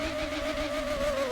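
Japanese car engine revving hard in an old driving video game, a steady high-pitched whine rising in pitch over a little more than a second, loud and close with no talking.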